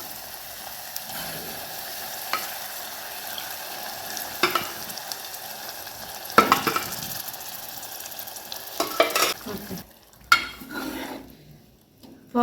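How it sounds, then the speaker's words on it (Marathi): Cooked dal poured into a hot tempering of turmeric and asafoetida, with a soft sizzle and spoon scraping the pot, a louder clatter near the end before quieting. "आता आपण ह्याच्यामध्ये वरण टाकूया"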